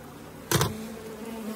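A burst of honey bees buzzing loudly near a beehive, a sudden close swell that fades into a thinner steady hum.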